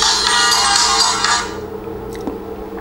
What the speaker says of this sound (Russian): Запуск слышится очень громко.